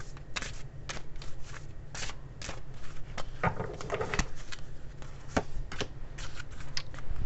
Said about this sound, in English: I want to pull a couple oracle cards and then the tarot.